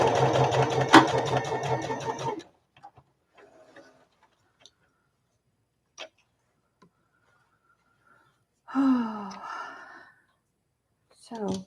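A sewing machine stitches a zippered bag in a fast, steady, close run for a couple of seconds, then falls quiet apart from faint ticks, with a person briefly speaking near the end.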